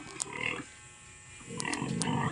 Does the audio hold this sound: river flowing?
no